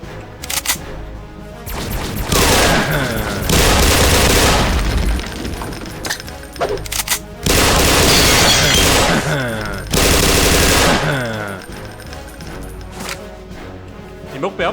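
Loud, sustained bursts of automatic gunfire in the video game Wolfenstein, arriving in several long volleys with short pauses between them, mixed with someone talking.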